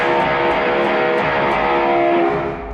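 A sustained, heavily filtered electric guitar tone rings out steadily with a swirling, sweeping character, played alone without any talking.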